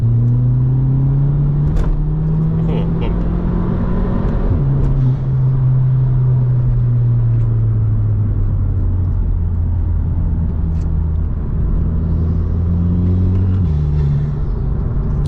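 A Volkswagen Polo GTI engine drones with a deep, bassy intake rumble, steady and close, its pitch dipping and rising slightly as the throttle shifts.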